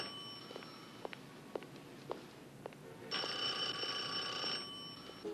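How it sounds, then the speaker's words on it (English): A telephone bell rings in a long, loud burst partway through, after a quieter stretch of faint scattered clicks and room noise, set in a 1983 drama scene. "Jennifer, your phone's ringing."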